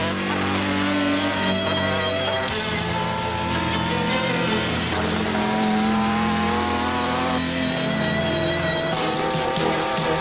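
A car and a street motorcycle race on a short track, engines roaring and revving hard, with tire squeal and rising pitch as they accelerate close by.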